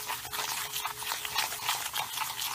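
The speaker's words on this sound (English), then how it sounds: "And just stir." A spoon stirs a small fizzing mix of half a teaspoon of baking soda and a tablespoon of vinegar, giving a steady close-up scraping and bubbling hiss with no talking.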